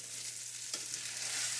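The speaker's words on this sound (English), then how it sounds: "You can hear it sizzling away here" Frozen hash browns sizzle in butter in a hot pan, a steady broadband frying hiss that runs throughout with one brief stir-like clatter partway through and no talking.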